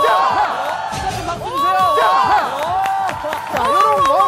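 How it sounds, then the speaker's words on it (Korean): A television talent-show studio audience whoops and cheers loudly with rising and falling shouts and some scattered clapping, a continuous close crowd roar lasting the whole stretch. "14층 박수 주세요"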